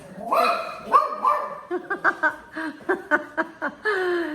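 Puppies yip and bark in a quick series of short, high barks nearby, with a bit of chuckling and voices mixed in.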